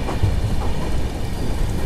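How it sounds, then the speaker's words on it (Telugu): Light rain falls outside a moving express train near Ongole railway station, a soft steady patter over a low rumbling hum of the carriage, with no speech. "వర్షం కూడా అయితే మనకైతే లైట్గా అయితే పడుతుంది పక్కంతా."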